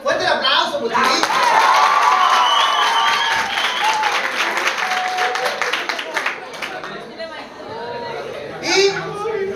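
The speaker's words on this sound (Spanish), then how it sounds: "Fuerte el aplauso" Crowd at a 2015 gaming event in Chillán, Chile, bursts into loud applause mixed with cheers and whistles. The clapping is dense at first and then thins out as chatter and voices take over, with a brief swell near the end.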